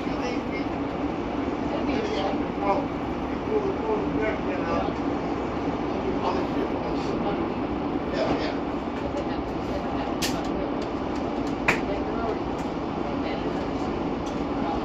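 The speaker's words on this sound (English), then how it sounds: "This train is bound for East Economy Lot and 44th Street Station." Phoenix Sky Harbor Airport eastbound Sky Train in motion, a steady rumbling ride with faint clicks and rattles, heard from inside the car.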